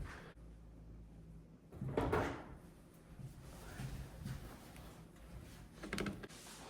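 A removed Miele oven door is handled and set down on a blanket, giving soft thumps, clunks and metallic knocks spread over several seconds, close by, with no talking.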